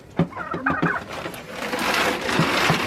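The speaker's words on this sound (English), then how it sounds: "we got a few chickens that live out here with the turkeys." Chickens kept alongside turkeys on a homestead cluck in short, close bursts, several separate calls in the first second followed by a busier stretch of overlapping fowl noise.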